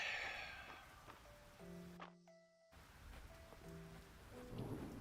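Soft steady rain falls in a cozy farming game, a gentle hiss running throughout while brief game chimes and tones ring in the middle, quiet and close.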